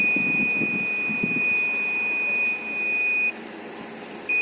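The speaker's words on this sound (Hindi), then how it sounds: "इस साइड में बीपिंग आ रहा है और इस साइड में भी बीपिंग आ रहा है" Multimeter continuity beeper sounding on a laptop motherboard with a no-power short fault, a steady high electronic tone held continuously for over three seconds before cutting off, close and clear with no talk.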